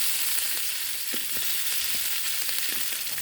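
Ginger and green chilli fry in hot oil for a soybean curry, a steady close hiss of sizzling with a few soft stirring knocks, and no one talking.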